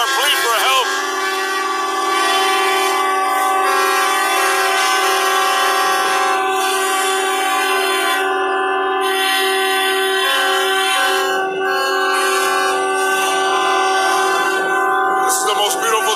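Truck drivers sounding their air horns together in an 8:00 am protest, a loud, sustained blare of overlapping horns with a few brief breaks, under crowd noise.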